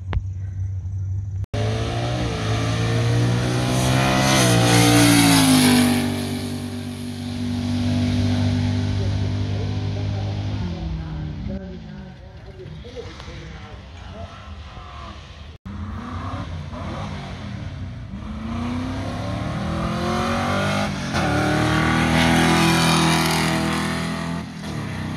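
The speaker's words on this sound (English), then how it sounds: "My friend Frank in the far lane in the white Mustang." A white Ford Mustang launches down a drag strip at a Ford FE race meet, its engine roaring loudly and rising through gears before fading, then a second hard run builds again, with no talk.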